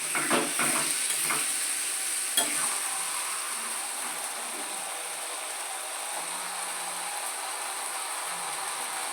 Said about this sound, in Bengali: এভাবেই আবার একটু নেড়ে চেড়ে এমন করে নাড়বো যাতে রসটা তলায় চলে যাবে